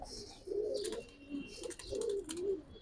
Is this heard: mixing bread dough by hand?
no